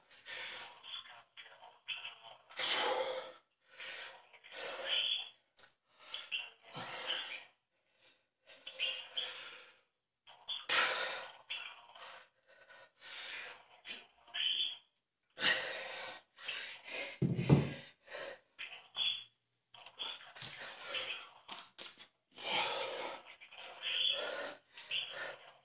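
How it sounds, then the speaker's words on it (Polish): Deep breathing during a home chest workout comes as a close series of heavy, forceful breaths in irregular bursts, separated by short pauses. "Tutaj też staramy się wziąć pełny oddech."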